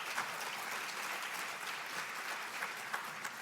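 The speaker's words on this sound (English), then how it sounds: "Another round of applause," Faint, steady audience applause at a national health care forum, an even wash of clapping that continues throughout without a clear start or finish.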